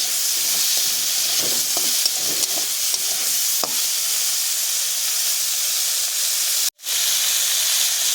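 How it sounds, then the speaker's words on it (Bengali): Prawns fry in hot oil in a pan for a Bengali prawn and melon dish, a loud continuous hiss and sizzle with faint stirring scrapes, broken by a brief cut near the end. "ভালো করে মাছগুলো ভেজে নেব।"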